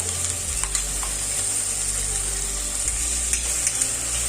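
Water-thinned spice paste hits a hot paneer curry pan, producing a continuous bright, hissing sizzle with faint bubbling and occasional small clicks, close and fairly loud throughout.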